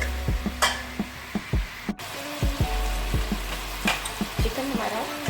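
Pieces of chicken and tomato fry in hot oil, a steady bright sizzle broken by repeated clacks of a spoon stirring the pan, close up with no talking.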